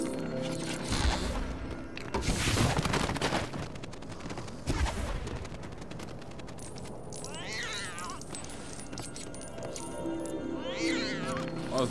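Cat meowing in the LEGO Harry Potter video game, short meows and wails over busy game sounds and effects, with a person talking at times.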